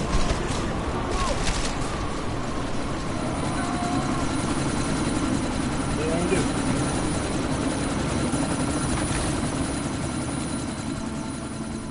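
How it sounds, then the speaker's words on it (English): Helicopter in the Deus Ex video game, a loud, continuous rotor thrum and engine drone during a sandstorm, steady and close throughout with faint bursts of other sounds mixed in. "you need to disable that chopper"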